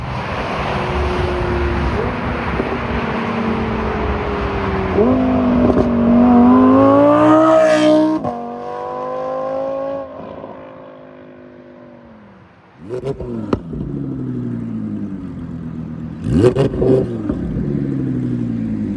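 An Audi R8 V10 engine revs with strong induction noise, rising in pitch several times, dropping briefly to near quiet and then revving again in sharp bursts, loud and close.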